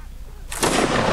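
A sudden loud musket volley erupts midway in a Napoleonic Wars line battle, its crackling roar sustained after a quiet lead-in.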